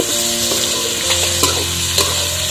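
Eggplant (brinjal) being stirred as it fries in a pan: a steady close sizzle with scraping strokes of a spatula at intervals, no voices.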